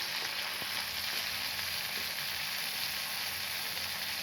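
Garlic frying in oil in a pan for a jute leaf (pat shak) recipe, a constant soft crackling sizzle with a couple of faint clicks and no talking.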